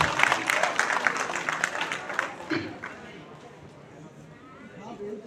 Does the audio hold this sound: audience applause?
yes